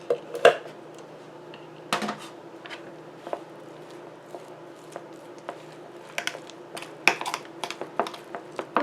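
A utensil mixes deviled egg filling in a bowl, making quiet, irregular clinks, taps and scrapes against the bowl, with a few sharper knocks scattered among them.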